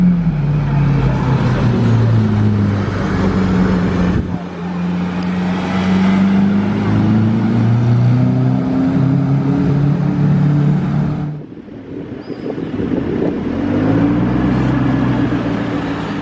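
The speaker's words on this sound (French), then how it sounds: "il y a une Aventador qui monte. On la voit pas mais on l'entend." A Lamborghini Aventador out of sight climbs a hill near Monaco's Place du Casino, a loud, continuous engine drone with rising and falling pitch that dips briefly near the end before surging back.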